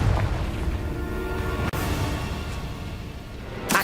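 Spell blasts and booming explosions from Confringo fire in Hogwarts Legacy, a dense rumbling game-combat soundscape with a sharp cut and fresh burst midway and another bright blast at the end, with no talk.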